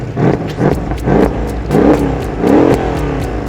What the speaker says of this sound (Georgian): მე მომწონს Mercedes 8 ცილინდრიანი ძრავის ხმები